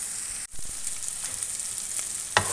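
Minced meat fries in a pan with red amaranth leaves, a steady close hiss of sizzling oil broken by a sharp clack of a spoon and a few scraping stirs.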